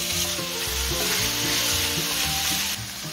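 Skirt steak for fajitas fries in a little oil in a pan, giving a loud, steady, close sizzle that runs without a break, with some stirring and scraping underneath and no talking.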